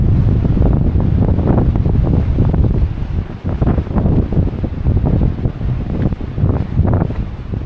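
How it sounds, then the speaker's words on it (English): Strong wind buffets the microphone on the Caminito del Rey cliff walk, a loud, gusting roar that swells and dips throughout with no other sounds. "Damn, it's extremely windy."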